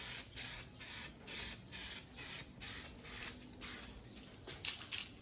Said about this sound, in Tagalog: Malayo lang po pag-spray.